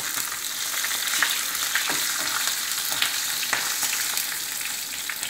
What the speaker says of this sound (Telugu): ఆయిల్ హీట్ ఎక్కింది, మనం జీలకర్ర ఫస్ట్ వేపేసుకుందాం